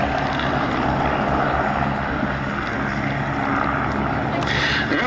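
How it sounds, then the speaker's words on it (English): A Vans RV8 light aircraft flying at the Duxford summer air show, a steady propeller engine drone that holds at a moderate, fairly distant level for several seconds, with no voices over it. "as for the aircraft that they're flying, it really is a truly outstanding machine, the Vans RV8."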